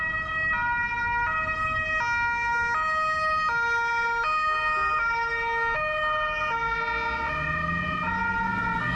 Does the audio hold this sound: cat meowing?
no